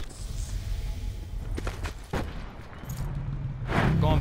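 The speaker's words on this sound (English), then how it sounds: "The other one's shooting me." Gunfire in a battle royale video game, with the play zone collapsing: a few sharp shots and bursts crack out midway over a constant bed of game noise, close and moderately loud.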